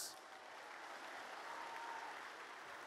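Steady, dense applause from a crowd after a Mass at the 2024 Nazareno feast, even and sustained throughout with no breaks.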